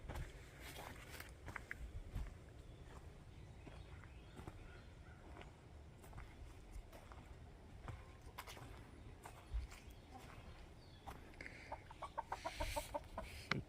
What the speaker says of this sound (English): The chickens, chickies.